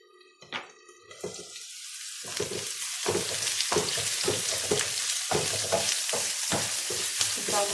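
Food sizzling and frying in a pan, with a brief faint clink at the start, then a loud continuous sizzle with crackling bursts and stirring scrapes, close and without talk.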